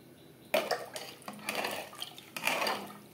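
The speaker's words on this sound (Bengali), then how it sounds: "চালের সাথে মশলা বেশ ভালো করে মিক্সড করে দেব" Rice and biryani masala are stirred together in a metal pot, giving repeated scraping and clinking of a spoon against the pot in several bursts, with no talking.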